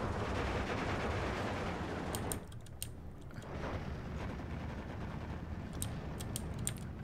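Gunfire rattles in the World War II strategy game Steel Division 2, a dense steady roar of distant battle with scattered sharper shots and bursts, fairly faint and continuous.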